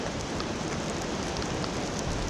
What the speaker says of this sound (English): so maybe this rain will turn to snow later